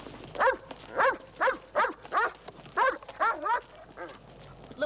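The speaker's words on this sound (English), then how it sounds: "Look, Marion, send that dog home. He's making too much row." A dog barks in a steady run of about nine close, loud barks over a few seconds, with faint background noise between them.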